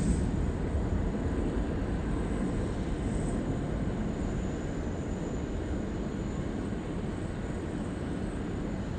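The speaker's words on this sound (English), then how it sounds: "a Qantas 73 just getting underway there off runway 16 right" A Qantas jet rolls for takeoff on runway 16 right at Sydney Airport, its engine noise a steady, heavy, continuous roar and rumble with a faint high whine above, heard from a spotting position and without voices.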